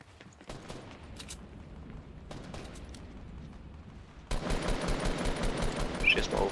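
Gunfire in the video game Fortnite: scattered shots early on, then a dense, louder burst of rapid fire filling the last couple of seconds.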